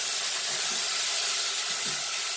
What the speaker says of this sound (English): I'm just gonna add my tomato in there and let it cook